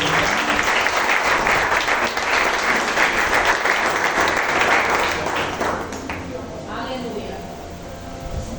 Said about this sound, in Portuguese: Aplauda o Senhor pela tua vida.